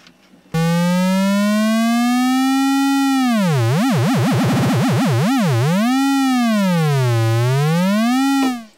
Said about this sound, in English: And there's our sine wave